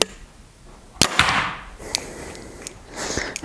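A Bowtech Solution compound bow is shot, giving a single sharp snap followed by a scatter of lighter clicks and rattles that fade away, with no talking.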